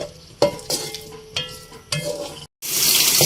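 Finely chopped onions frying in a pan for an egg korma, with intermittent scraping stirs over a sizzle that swells into a loud, steady hiss near the end.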